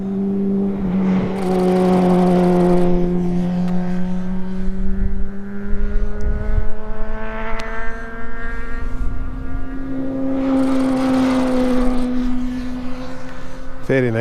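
Four Repsol Honda racing motorcycles sweep past one after another, engines whining up and down in pitch as they approach and recede, loud and close, with a second surge of engine noise later.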